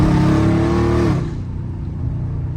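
Dodge Scat Pack engine revving hard and held at high RPM for about a second, then dropping to a lower rumbling idle; loud and close, with no talking.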